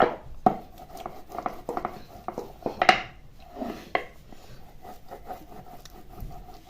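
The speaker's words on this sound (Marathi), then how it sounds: "जितकं होईल तितके प्रेशर देऊन ही पापडी ती लाटून घ्यायची" Jaggery gulpapdi being rolled out with a rolling pin, giving repeated wooden rubbing and scraping strokes in an uneven rhythm, fairly close and alone.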